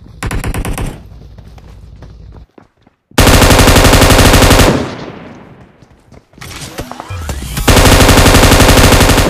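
Automatic gunfire in the PUBG video game: loud, close bursts of rapid machine-gun fire broken by brief pauses, with several long sustained volleys and a few scattered single shots.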